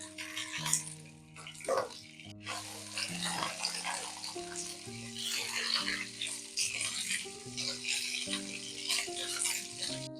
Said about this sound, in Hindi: कढ़ाई में डालेंगे 2 टेबल स्पून कुकिंग ऑयल। कोसा डाल देंगे। कोसे को गोल्डन होने तक फ्राई करेंगे।